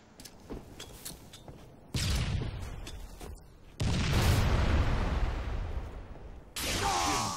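Grenade and gunfire blasts in Halo 3 multiplayer, several heavy booming bursts with sustained rumbling noise between them, loud and close, interspersed with sharper cracks.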